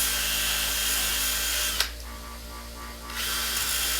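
Satin Scotch-Brite finishing on knife thumb studs, heard as a steady, loud abrasive whir that drops out for about a second and a half mid-clip before resuming, with a brief click just before the pause.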